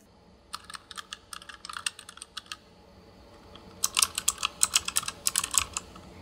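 Smooth, clickless ASUS TUF Gaming K7 optical mechanical switches being typed on: two bursts of quick, close keystrokes, a lighter run first, then a louder, denser flurry after a short pause, with no voices.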